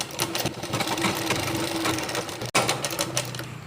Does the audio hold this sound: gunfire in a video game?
no